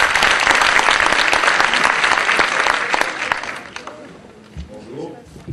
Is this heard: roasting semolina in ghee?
no